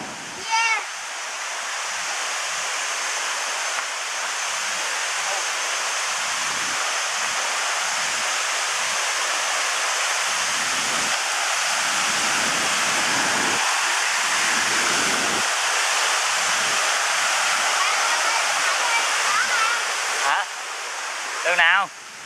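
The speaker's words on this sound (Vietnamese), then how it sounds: "Ô, tới thác rồi kìa Khang ơi." A waterfall roars steadily throughout, a loud, continuous broadband rush of falling water heard up close outdoors, with occasional faint voices of people talking under it.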